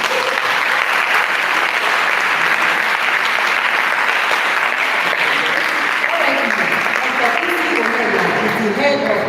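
An audience at a food sovereignty fellowship event claps steadily and loudly throughout, with voices joining toward the end.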